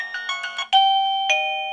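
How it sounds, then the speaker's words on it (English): A Chinese wireless doorbell plays a loud, close electronic chime: several quick bright notes, then a long sustained tone and a second held tone, with no talking. "this is by far the weirdest doorbell I have ever seen in my life"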